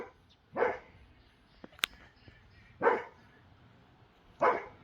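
A dog gives three single, separate barks spaced a couple of seconds apart beside backyard waterfalls, fairly close against a quiet background with a sharp click in between.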